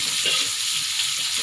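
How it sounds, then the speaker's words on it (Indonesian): Sliced chilies stir-frying in a pan for water spinach in oyster sauce, giving a loud, dense, continuous hiss of sizzling oil close by, with no voice over it. "Masukkan lombok yang sudah atau cabe yang sudah kita iris-iris."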